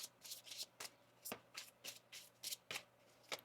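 Tarot cards are shuffled by hand in a quiet room, a series of soft, quick riffling bursts at an irregular rhythm, faint and close, with no voices.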